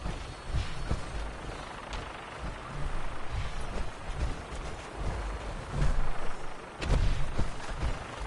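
Fallout game gunfire crackles in a dense, noisy barrage, with scattered louder bursts and booming low rumbles rising near the middle and end, no talk over it.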